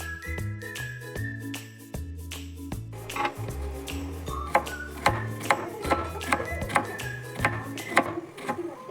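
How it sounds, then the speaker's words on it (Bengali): A knife chops bananas on a board for frying in a home kitchen, giving a steady run of sharp, close taps. Music plays underneath throughout. "তার জন্য কলা কাটা হচ্ছে"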